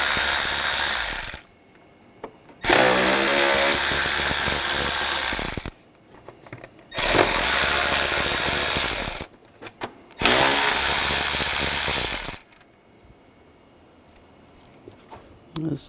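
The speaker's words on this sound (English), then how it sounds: "Using a T25 socket, we're going to take these screws out." Power tool driving a T25 socket to remove cover screws on a BMW 550i engine, three loud close bursts of high whirring, each a couple of seconds long, separated by quiet pauses.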